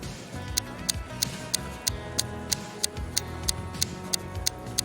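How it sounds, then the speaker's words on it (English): A wall clock ticks steadily, sharp evenly spaced clicks standing out clearly over a dense, continuous music bed. "Look at the clock on the wall."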